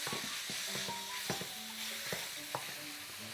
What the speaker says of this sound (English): Now the beef is going to cook off really quickly